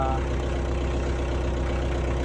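A wood splitter's engine runs at a steady, low idle-like drone throughout, continuous and fairly loud with no breaks.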